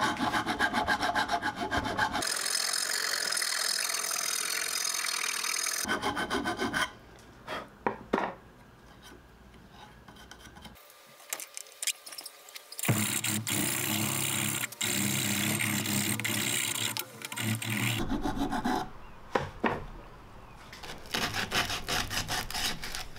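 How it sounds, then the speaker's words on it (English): A rounded file scraping down the lip of a pipe fitting in a workshop, several bursts of rough, rasping strokes repeated back and forth, loud and close, separated by short quiet pauses. "there's a little lip here that will need to be filed down. And a rounded file here"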